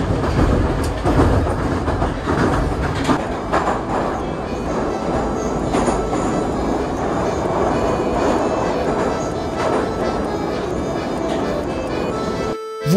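A Moscow metro train runs through the underground, a loud continuous rumble with rhythmic clickety-clack from the wheels and occasional squeals, lasting throughout.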